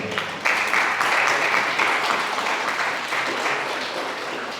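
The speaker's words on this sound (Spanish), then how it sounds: "un fuerte aplauso para la ponente." Audience applause for a speaker at a science talk event, a dense steady clapping that starts sharply and carries through at moderate loudness, slowly thinning toward the end.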